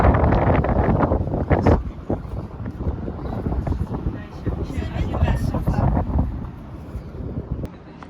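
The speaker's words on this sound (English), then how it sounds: "it's very windy in here" Steady gusty wind roars across the microphone in an open grassy area in Kazakhstan, with rumbling buffeting low noise and some voices mixed in.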